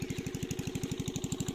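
A small engine driving an irrigation water pump in a field runs steadily with a fast, even low-pitched chugging pulse, close and loud with no talk over it.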